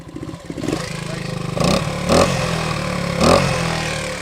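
A 1970 Honda SL100 motorcycle engine idles steadily and close by through a quiet exhaust, with a low even putter and a few brief swells where the throttle is blipped.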